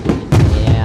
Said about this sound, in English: hear those fireworks?